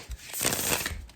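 Brand-new, slightly stiff tarot cards shuffled by hand, a brief close riffle with a soft papery flutter building and fading.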